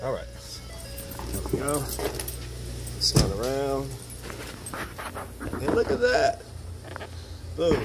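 A Ford Escape V6 starts up after a water pump replacement: keys jangle, then a short crank catches into a rising rev and settles into a running idle, while someone talks throughout.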